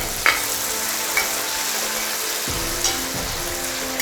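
Beef roast with chopped capsicum and coriander fries and is stirred in a pan, making a steady, close sizzle with a few sharp scrapes and knocks of the spoon.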